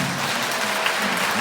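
Steady, dense applause from a church congregation at a youth choir mass, clapping loud and close throughout with no voices.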